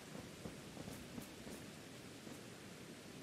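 Steady rainstorm ambience in Pokémon Legends: Arceus, a continuous wash of rain noise with a few faint brief crackles, low in level and heard alone without talk.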